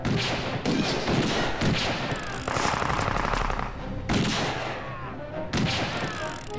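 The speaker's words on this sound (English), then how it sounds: "I have to shoot them before they come down the ramp" Rapid bursts of gunfire from the Indiana Jones and the Staff of Kings video game, several loud volleys with short gaps between them and thumping impacts, with no speech.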